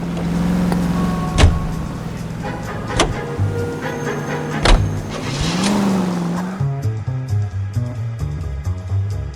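A car drives in the 1940s Los Angeles crime game L.A. Noire, with a steady engine hum, gear shifts and shifting revs under faint background music, no talk.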